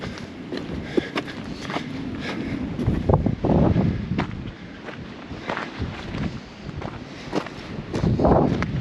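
Strong gusty wind buffets the microphone in an open Las Vegas desert, roaring loud and steady with a few footsteps crunching underneath and no speech.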